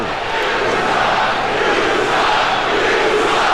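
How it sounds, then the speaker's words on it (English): A basketball arena crowd in a 1996 Chicago Bulls vs Seattle SuperSonics game roars in a dense, steady wash of noise, reacting to a no-call. "the crowd reacted to the last, what they felt was a non-call"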